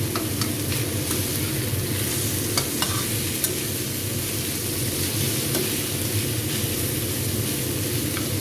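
Eggplant frying in a hot pan, a loud continuous sizzle with scraping stirs and occasional clinks of the utensil against the pan, no talk.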